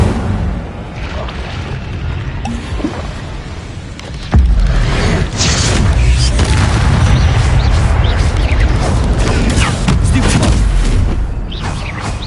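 In the video game Hogwarts Legacy, the Incendio fire spell goes off as a loud burst that erupts into sustained roaring, crackling flames, dense and continuous for several seconds.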